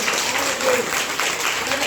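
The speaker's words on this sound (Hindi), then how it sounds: "शाबाश, जोरदार ताली बजाइए।" Applause in a classroom, a short burst of clapping from students that runs steadily throughout, fairly loud and close.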